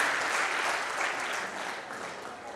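An audience claps for the organizers at a Jawahar Navodaya Vidyalaya Begusarai alumni meet, a dense, continuous wash of applause that holds steady for the whole stretch and eases slightly toward the end.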